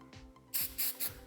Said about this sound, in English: spray a little bit of activator, wait a few seconds, add a bit more if necessary